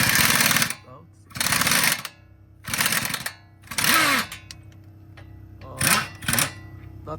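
An air ratchet buzzing in short, loud bursts as it works on a tough shock or strut bolt, about six rattling bursts separated by brief pauses, with faint clanks between.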